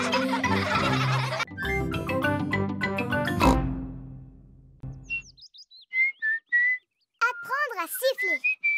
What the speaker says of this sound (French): Apprendre à siffler.